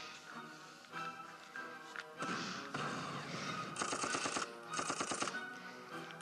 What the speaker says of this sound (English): Oh, it's that artillery.